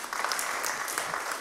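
A church congregation claps in a short, dense burst of applause after a Bible reading, steady and fairly close, with no talking over it.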